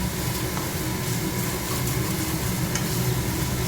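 Paneer and masala fry in oil in a non-stick pan, a loud, continuous close sizzle with stirring scrapes throughout.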